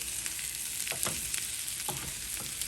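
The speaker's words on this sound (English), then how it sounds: "Then you stir it up a little bit more." Home fries frying in melted butter with paprika, stirred in a pan: a steady low sizzle with a few soft scraping strokes of the spoon, close and fairly quiet.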